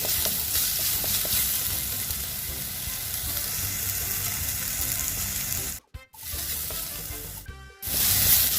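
Chopped garlic fries for a fish curry with a dense, continuous sizzle close by, nearly cutting out twice near the end as the pan is handled before the crackle returns.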